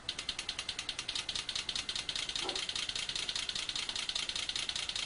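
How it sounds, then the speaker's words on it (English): A car engine idling in place, giving a steady, evenly pulsing mechanical rumble with a faint ticking rhythm throughout and no voices. "So this is what it would sound like if it was idling."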